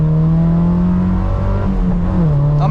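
A Mazda MX5 2.0 engine revs freely after a missed gear shift, its loud sustained drone holding high and then sagging as the revs fall.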